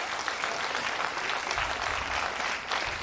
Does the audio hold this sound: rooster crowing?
no